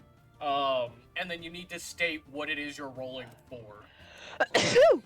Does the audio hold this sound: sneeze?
yes